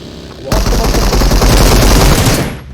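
Sustained automatic gunfire in the video game PUBG Mobile, a loud, close, rapid burst starting abruptly and rattling continuously for about two seconds before cutting off.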